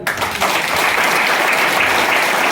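Loud, steady applause from a business seminar audience, a thick continuous rush of many hands clapping that starts abruptly and holds evenly to the end.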